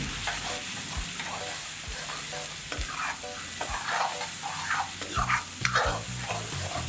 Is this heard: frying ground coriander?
yes